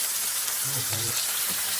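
Fish frying in a wok, a steady close sizzle and hiss filling the moment, with a faint voice-like murmur briefly underneath.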